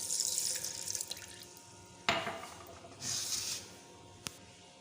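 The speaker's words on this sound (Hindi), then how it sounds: "1 गिलास हम इसके अंदर ऐड करेंगे दूध" Milk poured from a glass over strawberries for a strawberry milkshake: a close, splashy liquid pour in a few bursts with brief pauses between, and no talking.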